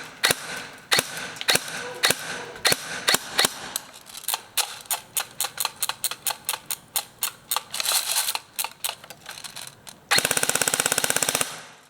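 A G&G CMF-16 airsoft rifle firing BBs at around 400 FPS, first spaced single shots, then quicker bursts, ending in a loud sustained full-auto string of rapid mechanical cracks, close and without talking.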